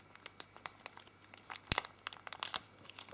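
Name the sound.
folding origami paper for a spinning top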